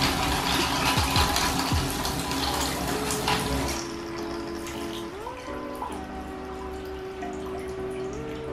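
A faucet being fixed runs with a steady rushing flow of water that splashes loudly, then eases to a thinner stream with a few clanks and squeaks of the tap, close by.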